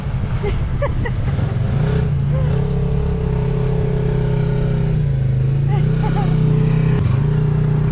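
Car engines drone and rev steadily at a beach campsite, a continuous loud rumble with slight pitch shifts, close by, with faint voices in the background.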